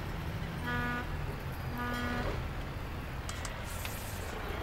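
Two long, tonal truck air horn blasts in Euro Truck Simulator 2 sound over a steady engine rumble, each lasting about a second, followed by fainter higher-pitched sounds.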